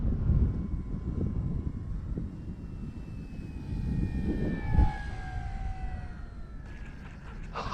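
An FMS PC-21 Pilatus RC airplane comes in to land at low power, a faint whining motor tone gliding down in pitch over wind buffeting on the microphone, with a brief louder bump near the end.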